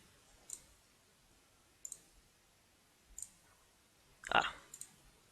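Mouse clicks on a map sphere icon in GPS tracking software: several soft, evenly spaced clicks in a quiet room, with a slightly louder double click near the end.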